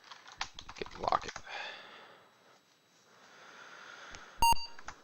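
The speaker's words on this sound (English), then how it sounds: "Game beeps at me if I type without the command line." A short, sharp electronic beep comes from the Apple II game The Wizard and the Princess near the end, after scattered keyboard clicks and sniffs in a quiet room.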